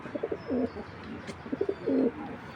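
A pair of blackless pigeons, one sitting on an egg, coo in two distinct bursts of low, throaty rolling calls, fairly close, with brief softer chirps between them.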